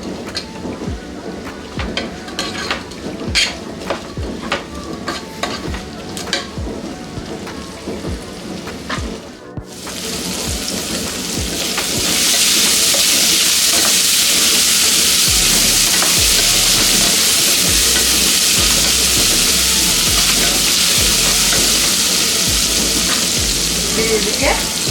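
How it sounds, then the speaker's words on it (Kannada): Capsicum frying in oil, a loud, close, hissing sizzle that swells after a brief pause and holds steady, with earlier clattering stirring strokes against the pan. "ಒಂದು 2 ನಿಮಿಷದಷ್ಟು ಫ್ರೈ ಮಾಡ್ಕೊಳ್ಳಿ ಸಾಕು"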